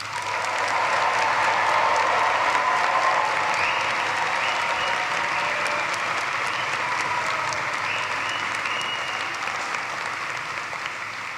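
A large commencement crowd in an arena applauds the graduating class of 2023, producing a loud, dense, sustained wash of clapping that holds steady throughout and eases slightly toward the end.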